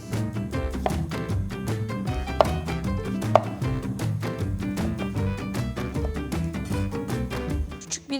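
A knife chops a lemon into small pieces on a cutting board, a rapid, steady run of crisp, close taps that continues for the whole stretch with no talking.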